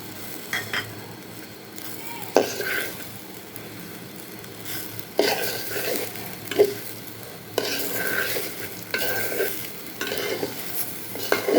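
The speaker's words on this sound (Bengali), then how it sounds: "যে কোনো খিচুড়িতে হলুদ যদি এইভাবে দিয়ে একটু ভাজা যায়, রংটা সুন্দর আসে" Spices and turmeric fry in a khichuri pot with a soft sizzle, broken by repeated scraping stirs and metal spoon clinks against the pot at irregular intervals, close and fairly quiet.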